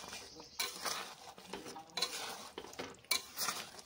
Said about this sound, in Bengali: এবার বেশ ভালো করে কিন্তু মশলার সঙ্গে আমের টুকরোগুলোকে মিশিয়ে নেব।